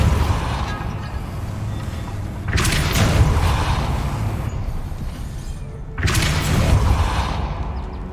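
Confringo blast spells cast in the video game Hogwarts Legacy, two loud booming bursts around three and six seconds over a steady rumbling game soundscape, with no one talking.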